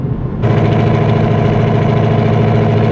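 A 2019 Ford Mustang GT engine drones steadily at cruising speed just below 1750 rpm, a low constant hum with a harmonic buzz that swells in after a brief quieter start.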